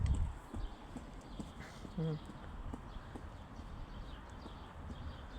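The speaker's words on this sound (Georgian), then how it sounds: "ნალებიც არ უკეთია, არც იმას მეორე ცხენს არ უკეთია ნალები" Unshod horses walk with soft, scattered hoof clip-clops on the ground nearby, heard over low outdoor background noise with a brief whinny-like tone.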